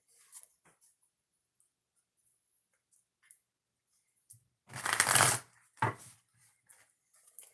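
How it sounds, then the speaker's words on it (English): Two quick bursts of oracle card shuffling, a longer riffle then a shorter one, set against near silence with a few faint handling ticks. "I'm going to shuffle this 3 times"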